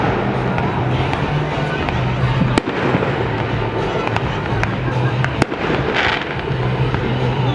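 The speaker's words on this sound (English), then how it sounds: "you could sort of hear under the fireworks" Fireworks at Smugglers Notch pop and crackle continuously, with a few sharp, loud bangs standing out over a steady noisy roar.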